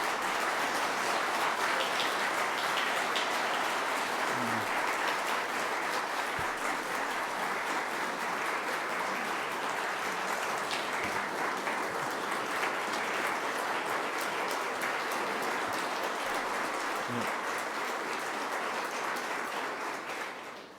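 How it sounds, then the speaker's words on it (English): A county government audience applauds at a budget presentation, a dense, sustained round of clapping that holds steady for about twenty seconds before tapering at the end. "Please recognize Sue and give her a round of applause."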